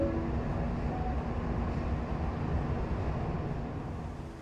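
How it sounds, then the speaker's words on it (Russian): Steady rumbling roar of a subway train in motion, heard from inside the car, with a constant low drone and faint rail clatter throughout and no voices. "Я сейчас в метро."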